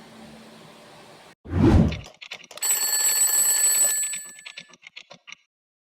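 A quiz countdown timer runs out with an alarm-clock style electronic ringing: a loud whoosh bursts in, then a steady bright multi-tone ring lasts over a second and trails off in short pulses, with no one talking.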